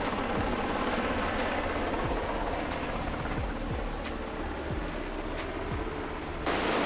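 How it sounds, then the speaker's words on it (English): A Coast Guard helicopter passes close over the sea near a sailboat off Eleuthera Island, a loud steady rotor roar with rhythmic blade thumping that fills the whole stretch and cuts off abruptly near the end. "We even had the visit of a Coast Guard helicopter, which flew by twice and really, really close to us."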